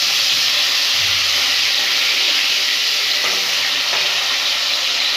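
Fish fries in a pan for an arbi fish curry, a steady broad hiss of hot oil close by, with a few faint clinks and stir sounds and no talk.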